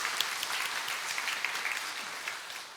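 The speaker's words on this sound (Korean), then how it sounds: "우리 박수로 환영하며 보내겠습니다" A church congregation at Sunday worship applauds in an even, continuous wash of clapping that fills the room throughout.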